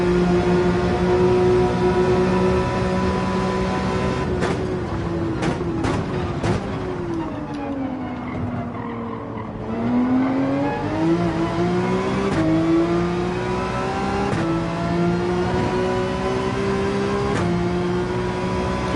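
Race car engine through a lap at Deep Forest in a racing video game during a Manufacturers Cup race, loud and continuous, with whining revs that climb, drop and climb again through gear shifts and corners.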